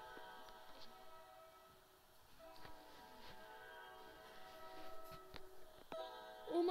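A train sweeps through a Roblox Trains Vs Cars 2 crossing, faint rail rumble with a sustained horn tone and scattered clanks, quiet and distant throughout.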